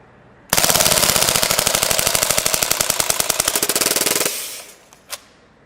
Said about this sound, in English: Let's see what the rate of fire is like in full auto.